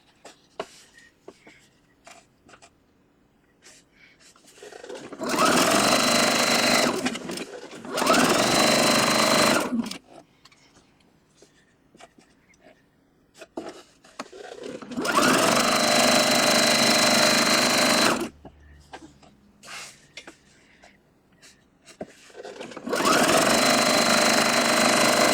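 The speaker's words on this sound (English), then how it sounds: "we'll start sewing the other way" A sewing machine stitches charm squares for a scrappy quilt in four steady, loud bursts of rapid mechanical whirring, separated by quiet pauses with faint handling sounds.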